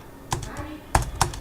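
A computer keyboard typing out Kotlin code for a B4A library wrapper: a few sparse, crisp keystrokes at close range, with no talking.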